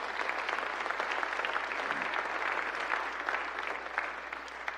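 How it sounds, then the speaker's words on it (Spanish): A church congregation applauding during a Spanish-language service, with sustained, even clapping from many hands, moderately distant and holding steady throughout with a low hum beneath. "Un aplauso a Dios."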